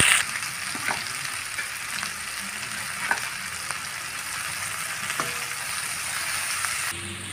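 Onions sizzling in hot oil for a chicken curry, a steady close frying hiss throughout with a few light stirring clicks and scrapes.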